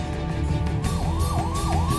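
An ambulance siren wails through traffic in Ludhiana, its rising and falling tone repeating loudly and nearby over a constant rumble of road noise.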